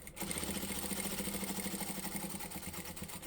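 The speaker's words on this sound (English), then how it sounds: "So just 1/4 of an inch seam allowance, back stitch, and sew to the end," A sewing machine runs steadily throughout, stitching a quarter-inch seam with back stitching on a small fat-quarter fabric toiletry bag, a continuous close, even mechanical whir with a fast regular rhythm.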